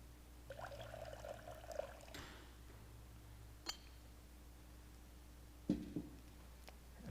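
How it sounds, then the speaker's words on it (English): Water trickles and pours into a bowl at a water communion service, a soft steady stream with a few faint clinks of glass, heard alone in a quiet room. "So I add a little bit of water from last year to this water."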